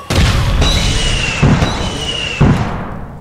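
Two or three heavy grenade blasts in APB Reloaded, each a loud deep boom with a short rumbling tail, spaced about a second apart over steady in-game ambience.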